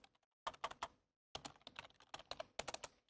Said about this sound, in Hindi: उसके बाद लेट्स स्टार्ट टाइपिंग